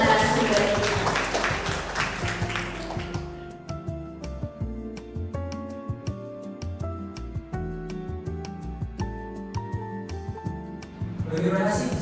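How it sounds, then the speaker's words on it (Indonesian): Audience applause at a school parenting seminar at SMKN 54 Jakarta rises loudly for the opening few seconds, then gives way to steady background music with sustained tones, and a brief swell of clapping returns near the end. "Kita beri tepuk tangan yang meriah untuk narasumber kita."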